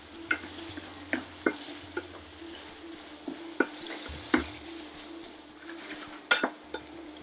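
Spices for lamb rogan josh fry in a pan, a faint sizzle beneath repeated sharp clinks and scrapes of a utensil stirring against the pan, close, without talk.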